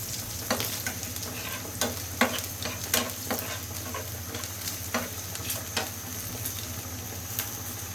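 Water lily stems frying in a pan with oil, a soft continuous sizzle broken by repeated scraping stirs of a spatula, close and quiet.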